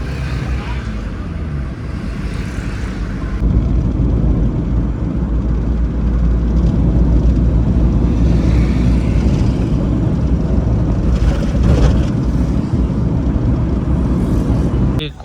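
A steady, loud low engine rumble, the kind of drone an old Ambassador car makes, runs continuously throughout, thickening slightly partway in, with no clear speech over it.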